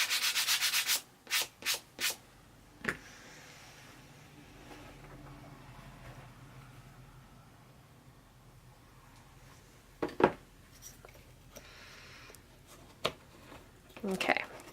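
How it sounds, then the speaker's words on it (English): Quiet, steady scratchy rubbing of sandpaper on the edge of a craft box runs for a while, with a few sharp taps and knocks at the start and near the end. "Sanding it off."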